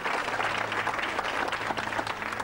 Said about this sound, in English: Come on, a big round of applause for all these ladies and gentlemen coming up there.